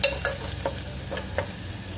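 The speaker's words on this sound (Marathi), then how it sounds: "याला छान असं हलकसं गुलाबी होतपर्यंत भाजून घ्यायचं आहे, तळून घ्यायचं आहे." Masala frying in a pan until lightly pink gives a continuous bright sizzle, with several soft scraping stirs of a spoon spaced through the short stretch.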